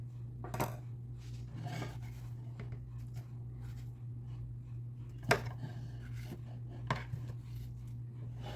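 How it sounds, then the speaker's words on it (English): A few scattered knife cuts against a cutting board, quiet and irregular, over a constant low hum with no talking. "I'm going to go ahead and slice it up a bit more just to help the blender out"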